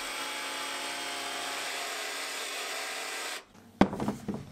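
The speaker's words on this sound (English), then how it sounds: "And then I used the jigsaw to cut the curves." A jigsaw cuts curves into a plywood panel for a custom mixing board case, giving a steady, loud buzzing run that stops abruptly, followed by a few quieter knocks and clatters.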